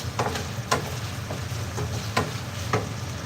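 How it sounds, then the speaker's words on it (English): Bacon sizzling in a pan under steady frying hiss, with a few sharp scraping stirs of a utensil recurring every half second or so, close and moderately loud. "Let me stir my bacon."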